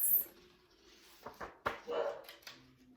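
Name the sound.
dog barking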